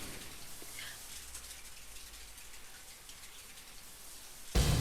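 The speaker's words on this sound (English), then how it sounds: "this is more like the sound of a bathtub faucet." Running shower water in the video game Deadly Premonition hisses as a steady, even spray, moderately loud, ending in a sudden louder burst at the close.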